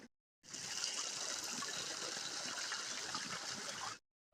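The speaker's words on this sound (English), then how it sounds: "Ooh, Waterfall." Waterfall at St Nectan's Glen pours with a steady, even rush of falling water, constant and moderately loud from start to finish, with brief quiet at the edges.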